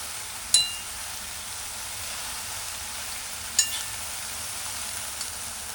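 Mixed leafy greens cooking in a pan, village style, give a soft, even sizzle throughout, punctuated by two sharp metallic clinks of a spoon against the pan.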